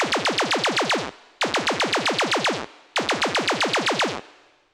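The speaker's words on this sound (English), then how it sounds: "Next element is this laser kick that sounds like this." A synthesized laser kick drum made with Thump One fires in three loud bursts of about nine rapid hits each, every hit a sharp downward pitch sweep with a short tail between bursts.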